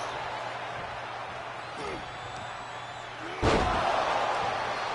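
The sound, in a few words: wrestler's power slam on the ring, video game WWE 2K24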